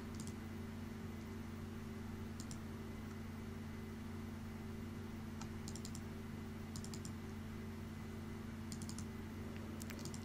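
Typing on a computer keyboard, short bursts of quick, faint key clicks repeating every second or two over a steady low electrical hum.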